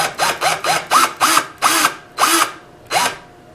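A power drill spins wire strands to form a fused Clapton vape coil, giving about eight short whirring bursts in a steady rhythm, each rising and cutting off, close and loud with no talking.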